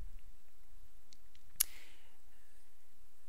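A single sharp mouse click on a computer, close and crisp, standing out against a quiet room background with faint clicks nearby.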